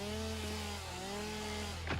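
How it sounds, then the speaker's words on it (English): Chainsaw cutting through plants in a factory-building video game, a steady close engine drone with shifting pitch as it cuts, ending in a brief rising whine. "I just chainsaw them"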